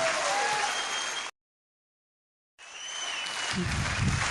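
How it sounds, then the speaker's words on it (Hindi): An audience at a gathering applauds loudly, in two sustained bursts of dense clapping separated by a short silent break. "आप सब लोग जोरदार ताली इसलिए बजाएं"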